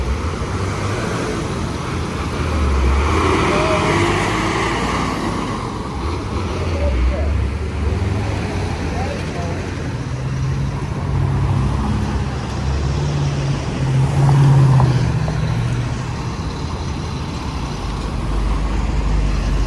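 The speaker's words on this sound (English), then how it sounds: "So far, there's endless traffic." Steady downtown street traffic on Franklin Street in Baltimore, Maryland, with a continuous low rumble of passing cars, trucks and buses that swells and fades throughout, close and fairly loud.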